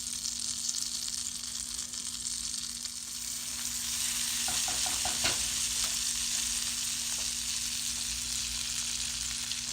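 Butter and extra virgin olive oil sizzle in a pan, a constant close hiss with a few brief clinks of stirring partway through.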